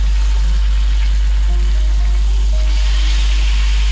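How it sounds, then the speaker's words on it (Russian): Pike-perch fillet frying in a pan with a sprig of rosemary, giving a steady, fairly loud sizzle with faint low crackles throughout and no voices. "Добавляем для вкуса веточку розмарина и рыбку переворачиваем"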